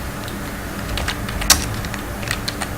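Light, rapid clicking from a computer keyboard as HTML code is typed, with one sharper keystroke standing out, close and soft over steady room noise, with no voices.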